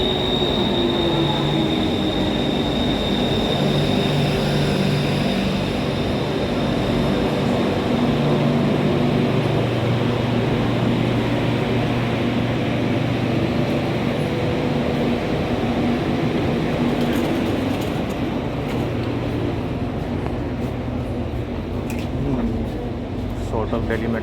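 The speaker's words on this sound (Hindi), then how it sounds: "2 मिनट वेटिंग के बाद फाइनली मेट्रो आ गई है।" A Bangkok metro train rumbles steadily into a station, a continuous low mechanical roar with faint high squeals toward the end.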